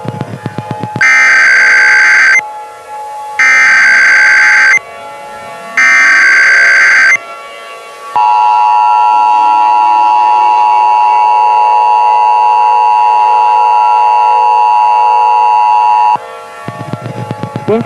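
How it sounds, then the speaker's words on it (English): Emergency broadcast alert tone: three loud, steady electronic buzzing bursts with short gaps, followed by a long continuous sustained tone lasting about eight seconds, harsh and dominating, ending with a brief noisy tail. "This is an emergency action notification."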